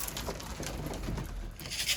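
A pigeon calls on a rooftop, soft cooing and light fluttering close by, faint and intermittent over a steady background hiss, with no talking.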